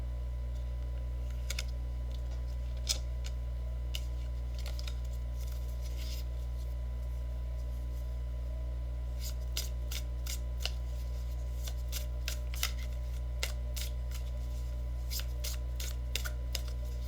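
Tarot cards are shuffled and drawn over a steady low hum, with faint scattered snaps and riffling clicks that grow denser in the latter half.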